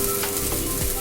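Leafy greens dropped into a hot pan of oil, giving a steady close sizzle and crackle of frying with faint stirring, no voices.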